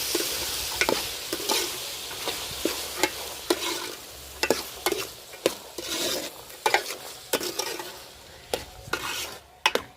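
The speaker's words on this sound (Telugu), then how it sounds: "ఇంకా ఉడకబెట్టిన కందులని అయితే దీంట్లోకి అయితే వేసుకుందామండి. ఒక్కసారి నూనెలోనైతే కలుపుదాము." Boiled pigeon peas and softened tomatoes are stirred in hot frying oil, with a steady sizzle under repeated scraping strokes of a spoon against the pan, close and fairly loud, with no talking.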